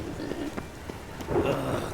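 Rain falls on a town in The Witcher 3. A brief, steady patter of drops is heard with a few soft knocks mixed in.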